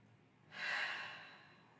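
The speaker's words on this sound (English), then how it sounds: "One more breath here." A single slow deep breath in yoga relaxation swells softly after a quiet start, then fades gradually, an airy whooshing close to the ear.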